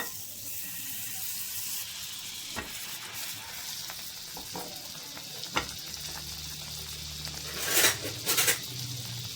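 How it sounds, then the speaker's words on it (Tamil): Bread toasting in melted butter in a pan, a steady hiss of sizzling throughout with a few soft taps, and a brief louder crackle near the end, with no talk. "ப்ரெட்டு சூடு பண்ணுறதுக்காக லைட்டாக டோஸ்ட் பண்ணி எடுத்துக்கணும்"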